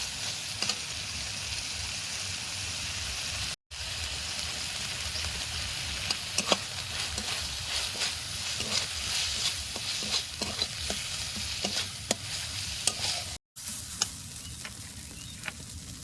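Spice paste of ginger, garlic, cumin, coriander and dried chilli with turmeric frying in oil in a village kitchen, a steady close sizzle with scraping stirs and two brief dropouts, no talking.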